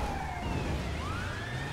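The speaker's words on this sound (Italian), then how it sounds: "Chi era sta sirena autobuggata?" A police siren wails in the racing game GTA 5 Online, a sweeping tone rising and falling over continuous engine and road noise from the race.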